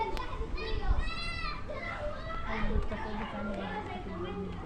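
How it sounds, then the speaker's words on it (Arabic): Children play in a street at night during Ramadan, heard from a rooftop: high shouts, squeals and chatter from several kids, moderately distant, in a lively continuous stream. "بصوا العيال بقى بتلعب في الشارع"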